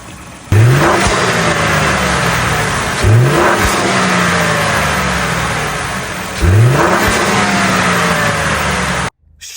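Ford 2.7-liter V6 EcoBoost pickup truck engine revs up loudly three times in close succession, each burst rising in pitch then settling back to a steady idle hum, with no talking.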